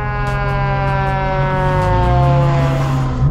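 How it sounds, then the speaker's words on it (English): Fire truck siren wailing close by on the road, a loud sustained rising and falling tone with harmonics, heard from inside a car over engine rumble. "Oh, we got a fire truck."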